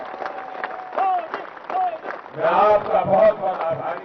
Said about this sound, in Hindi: शांति के लिए ताली बजाइए।